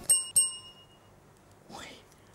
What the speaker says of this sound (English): Okay, there's another bell.